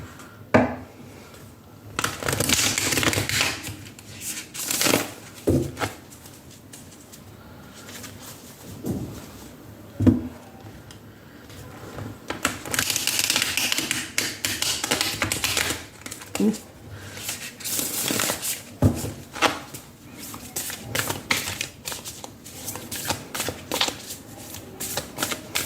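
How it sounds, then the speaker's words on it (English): Tarot cards being shuffled by hand, with repeated riffling bursts and soft slaps of the deck in an irregular rhythm, interrupted by pauses and some light tapping, close and clear. "Right now, we will first shuffle your tarot cards."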